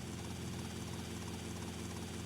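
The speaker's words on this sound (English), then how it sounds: "So now I'm in the helicopter." A helicopter's rotor thrums continuously in the Grand Theft Auto: Vice City video game, a steady droning whir with no other sounds.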